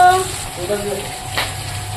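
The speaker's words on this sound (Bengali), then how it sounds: "এবার মাছের মাথাটা ভেজে নিচ্ছি" A fish head fries in a pan with a close, steady sizzle and crackle, while a voice talks faintly over part of it.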